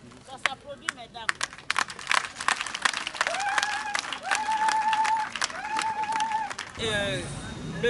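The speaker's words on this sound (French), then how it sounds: "Ça s'applaudit, mesdames." Applause from a crowd of women at a farming federation event in Sikensi, with scattered clapping building into steady applause, mixed with loud voices, chatter and a sustained sung or ululated tone over the middle section.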